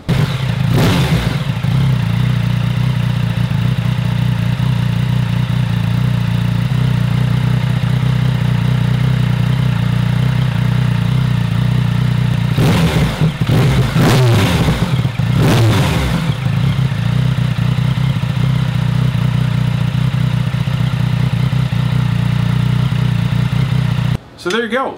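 A 2017 Yamaha FZ-09 engine idles steadily and loudly up close during throttle body sync work, with a low constant rumble and a few brief throttle blips partway through before it cuts off at the end.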